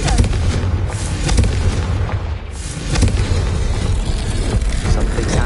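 A Confringo fire spell detonates in Hogwarts Legacy, a loud sustained booming blast with rumbling, crackling debris that dips briefly midway then surges again.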